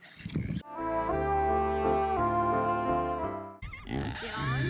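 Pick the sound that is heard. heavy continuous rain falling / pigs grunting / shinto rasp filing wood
pigs grunting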